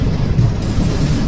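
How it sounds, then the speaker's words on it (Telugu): Sainagar Shirdi Dadar Superfast Express standing at a station platform, giving a steady low rumble of idling rail equipment with light wind noise, continuous and fairly close. "అక్కడ ఆగున్న ట్రైన్ వచ్చేసి సాయినగర్ షిరిడి దాదర్ సూపర్ఫాస్ట్ ఎక్స్ప్రెస్"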